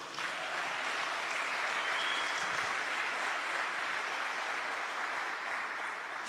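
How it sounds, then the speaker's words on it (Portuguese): An audience claps continuously at a religious talk about consecration to the Virgin Mary, a dense, even patter of applause sustained throughout at moderate level. "Pode aplaudir."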